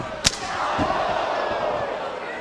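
A crowd of over 2,000 at a cage wrestling championship gives off a sustained murmuring groan, broken near the start by a single sharp slam, with a few softer thuds after it.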